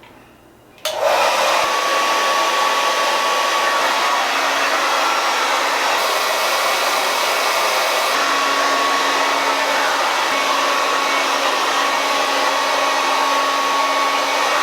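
A hair dryer fitted with a diffuser, drying curly hair, switches on after a second of quiet and then blows in a steady, loud, close roar that holds almost unchanged to the end, with no talking.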